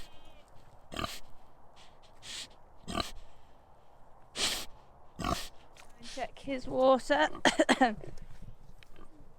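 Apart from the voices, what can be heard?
pig snorting and oinking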